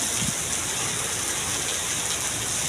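Heavy rain pours down in Riyadh in a steady, dense hiss, loud and close, with no voices.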